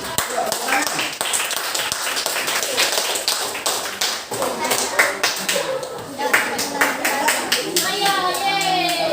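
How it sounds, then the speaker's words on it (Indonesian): A school class applauds a student group, brisk uneven clapping and tapping from many children with lively voices mixed in throughout. "Tepuk tangan untuk kelompok 6."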